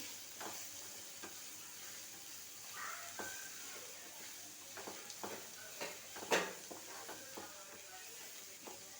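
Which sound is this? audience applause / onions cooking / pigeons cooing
onions cooking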